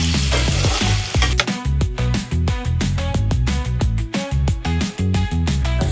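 Ivy gourd pieces fry in oil in a pan over a medium flame, sizzling steadily up close while a utensil stirs and scrapes them in quick, repeated strokes.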